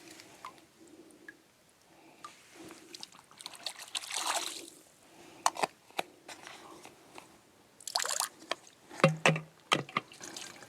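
Water trickles and gurgles faintly into a bottle outdoors at a wilderness campsite, broken up by clicks, rustling and handling noises, with no speech.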